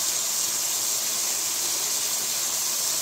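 Steady sizzling hiss of water cooking off in a hot pan of chicken and bacon, constant and fairly loud throughout with no talking.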